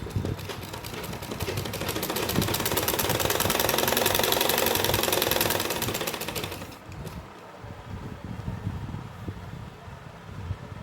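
An electric sewing machine stitches the side seam of soft fabric for palazzo pants, a fast, even mechanical rattle for about seven seconds before stopping, then quiet handling noise.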